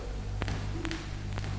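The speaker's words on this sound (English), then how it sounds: "The continuous sound that results from the friction between these two surfaces is interspersed with" Surface noise from a stylus riding a blank vinyl disc, copied to magnetic tape: a constant low hiss and hum broken by three distinct clicks from dirt or a damaged groove wall, heard alone.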